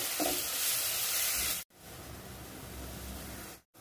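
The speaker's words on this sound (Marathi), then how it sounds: "आणि हे मी 2 टोमॅटो बारीक काळ करून घेतले, बारीक असे। ते आपण व्यवस्थित असे परतून घेऊया।" Two finely chopped tomatoes sautéing in a pan for a Malvani-style okra curry, a close steady sizzle with faint stirring, broken by two short dropouts into silence.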